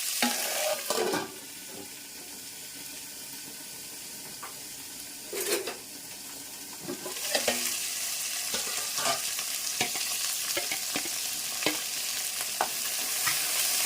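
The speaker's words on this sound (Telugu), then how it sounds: "ఈ ఉల్లిపాయలు గోల్డెన్ కలర్ ఫ్రై అవనిద్దాము." Onions, curry leaves and green chillies frying in oil in a pan, with a soft steady sizzle and clear metallic stirring clinks from a spoon scraping the pan, a few louder bursts throughout.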